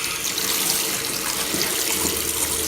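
Cold tap water runs steadily from a faucet over a head of freshly applied pink and purple hair colour, a constant close splashing rinse with no voices.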